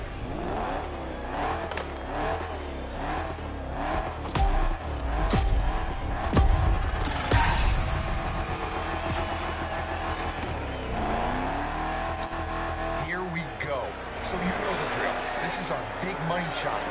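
A 1967 Shelby GT500 in The Crew Motorfest revs its engine repeatedly, the throttle rising and falling in waves with a sustained roar near the end and voices talking over it.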